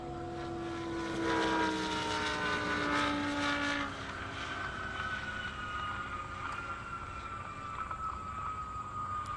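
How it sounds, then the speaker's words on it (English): A 2017 Audi R8 and a 2018 Audi RS3 drag race on a half-mile airport strip at a live event, engines roaring past loud and mid-distance, then a fading, rising whine as they pull away. "We've got Scott in the 2017 Audi R8 and Paul in the 2018 Audi RS3"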